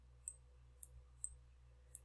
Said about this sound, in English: Make it smaller by holding the left button on the mouse and clicking